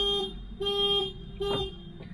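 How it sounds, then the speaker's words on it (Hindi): A Nissan Magnite car anti-theft alarm blares in short repeated electronic tones, three loud pulses separated by brief gaps, close and piercing. "गाड़ी ज़ोर से अलार्म देती है"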